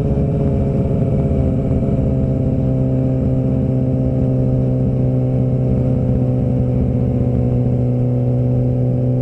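Suzuki GSX-R 600 track motorcycle engine pulling hard at steady high revs, a loud, continuous buzzing drone heard close up from on the bike, with no break or talk.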